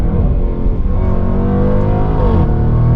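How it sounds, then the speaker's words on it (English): A 2020 Jaguar F-Pace SVR, a performance SUV, revs loud and close as it downshifts, its engine roar rising and falling continuously with no voices. "I'm totally gonna drop down a few gears and kind of like slow down."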